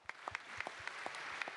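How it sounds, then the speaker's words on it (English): Applause at a robotics conference session, fairly faint and distant, with a few distinct claps standing out from a soft, steady patter of many hands. "Let's give him another big round of applause."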